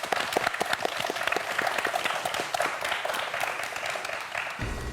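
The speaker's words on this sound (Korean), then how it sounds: "오늘 멋진 도전을 보여준 네 학생 모두에게 큰 박수 부탁드립니다" A studio audience on a televised student quiz show claps for four students, a dense, lively burst of many hands close and continuous, cut off abruptly just before the end.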